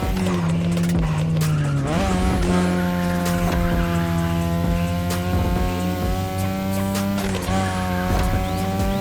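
A 2002 third-generation Mazda RX-7 with a lightweight rotary engine racing in The Crew Motorfest, its high-revving engine whining steadily through gear changes with tire squeal, loud and continuous throughout.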